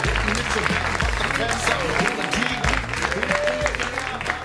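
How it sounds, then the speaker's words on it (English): An audience claps and cheers for a comedian in a San Francisco comedy show, a dense, sustained wave of applause with whoops and shouts that stays loud throughout the few seconds. "Please clap it up"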